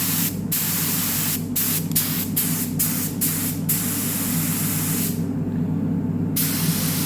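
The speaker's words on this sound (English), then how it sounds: "that is a really good handy little spray gun." Thinners hiss from an ANI R150 mini spray gun in a spray booth, continuous close spraying broken by several quick pauses and one longer gap, over a steady background hum.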